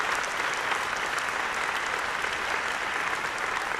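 Sustained audience applause at a university Founders Day address, a dense even wash of many hands clapping, steady and fairly loud throughout with no voices.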